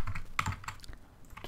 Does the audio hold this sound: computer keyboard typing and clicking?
yes